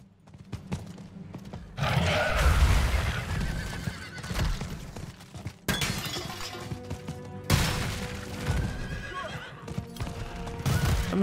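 Horses in the Diablo 4 video game neighing and whinnying loudly, with clip-clop hoofbeats and crashing in-game effects in a busy, continuous game mix.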